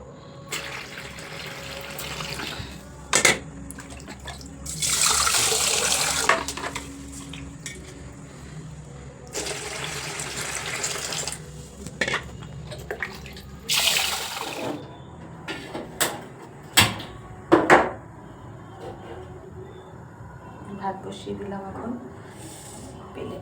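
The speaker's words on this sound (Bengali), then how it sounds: "চালটাকে ধুয়ে ভাতটা বসিয়ে দেবো" Rice is rinsed in a kitchen under running water, with bursts of tap flow, swishing and clinks of a metal pot at close range over a steady low background hum.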